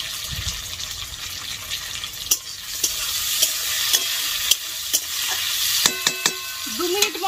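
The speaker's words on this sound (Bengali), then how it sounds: "দু মিনিট পেঁয়াজটা ভেজে নেওয়ার পর এবার টমেটোটা দিয়ে দিব।" Tomatoes hit frying onions in a pan, giving a steady sizzle with repeated scraping clicks of a spoon as they are stirred, close and moderately quiet, with a brief watery pour near the end.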